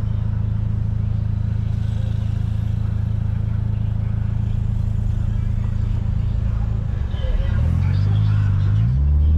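Fiat Strada pickup on 205 tyres, its engine droning in a steady low hum from inside the cab before rising and wavering in pitch as it accelerates toward the end.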